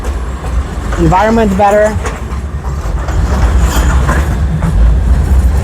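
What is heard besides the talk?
tram in Sofia public transport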